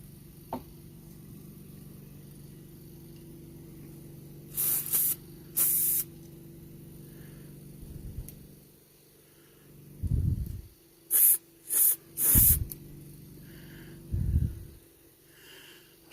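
A Coleman 237 lantern under maintenance gives short, sharp bursts of hissing spray, several in a row in an uneven rhythm. Between the bursts comes a quieter background hum.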